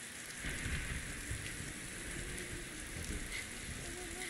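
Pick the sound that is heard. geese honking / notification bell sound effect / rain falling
rain falling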